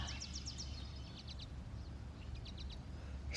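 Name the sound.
wild birds singing in a meadow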